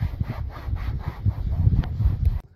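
Headliner fabric from a VW Tiguan panoramic roof is roughly cut with quick, rhythmic rasping strokes, close and fairly loud, before stopping abruptly.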